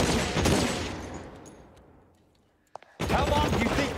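Gunfire in the L.A. Noire video game, a dense volley of shots that fades away, a couple of sharp single cracks, then another loud burst.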